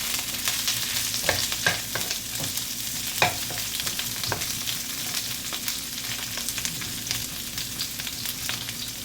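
Adobo galunggong fish frying and being stirred in a pan, steady close sizzle with repeated scraping stir strokes and no talking.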